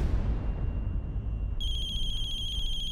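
A phone rings on an outgoing call: after a stretch of low rumbling background, a loud, steady electronic ringtone starts partway through and keeps sounding clearly to the end.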